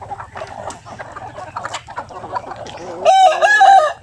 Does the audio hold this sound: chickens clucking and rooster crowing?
yes